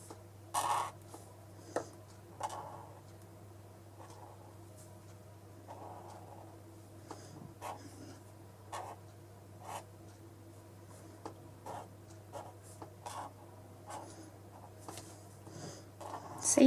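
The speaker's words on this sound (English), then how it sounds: "The sound of the pen on the paper," A pen scratches and scrapes across sketchbook paper in short strokes of uneven rhythm, close but soft, over a steady low hum and otherwise quiet surroundings.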